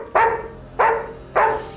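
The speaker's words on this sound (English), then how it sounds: "could you do that bark but a little sadder, please?" Big dog barking for a dog food commercial audition, three short separate barks evenly spaced, close and loud with a whimpering, mournful tone.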